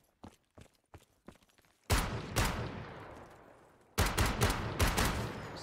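G3-style battle rifle firing in Call of Duty custom zombies on the Terminal map, a few sharp quiet single shots followed by two loud, echoing bursts of rapid automatic fire, with no talk.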